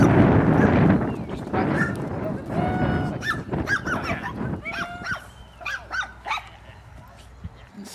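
A dog barks and yips in repeated sharp bursts, close and loud, with voices talking underneath amid outdoor background noise.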